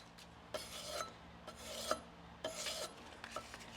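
A leather strap end punch is rubbed back and forth over abrasive grits in short, quiet rasping strokes, about four scraping passes with brief pauses between them, close and faint with no talking.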